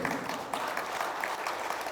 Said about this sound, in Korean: 힘찬 박수 한번 해주세요